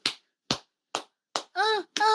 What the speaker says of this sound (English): I call it the monkey clap.